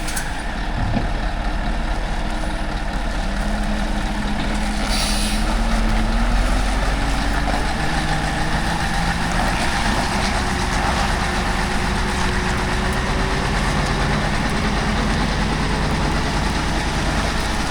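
A heavy haul truck pulls forward after unhooking from a lowboy trailer, its diesel engine droning loud and steady throughout, a brief air hiss near the start and rising engine tones as it moves.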